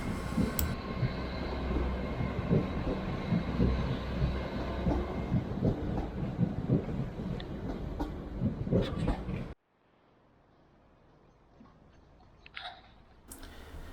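A train pulls into Crewe station as a loud, close rumble with clicking wheel noise for about nine seconds, then cuts to near silence with a few faint later knocks.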